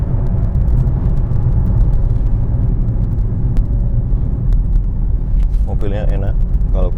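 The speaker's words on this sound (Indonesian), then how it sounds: "Kita coba pengereman, sistem pengereman saya deketin." A 2012 KIA Rio automatic hatchback rolls along during a braking test, its steady low road rumble and engine hum continuous and loud, with a few clicks and a brief voice near the end.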